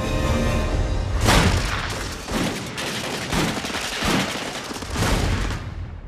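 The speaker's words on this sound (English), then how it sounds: "The state police have been alerted and open fire." Police open fire in Munich on Hitler's marchers during his coup attempt: a loud, close fusillade of overlapping gunshots rolling in several heavy bursts for about six seconds, with no one talking.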